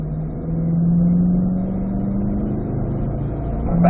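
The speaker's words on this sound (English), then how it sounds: "Now I'm going to brake a little more aggressively going into 4. 3rd gear again for turn 4 for the bowl." Chevrolet Corvette on a race track braking hard and dropping to third gear for a banked turn, engine note steady and loud with a droning tone, rising slightly at the end.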